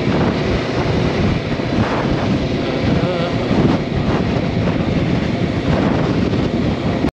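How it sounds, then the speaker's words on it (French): Strong wind roars and buffets the microphone continuously throughout a motorcycle ride in Ireland, a loud broadband rush with gusting swells and no pauses. "Le vent se lève."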